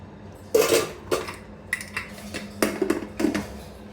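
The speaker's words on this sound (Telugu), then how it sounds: "ఇప్పుడు నేను రెడీ అయిన దాంట్లోకి వచ్చేసి నేను అన్నం కలుపుకుంటున్నా." Rice is stirred into a prepared coconut rice dish in a pot, giving several separate clinks and scrapes of a spoon against the metal pot at an irregular pace, close and fairly loud with no talk.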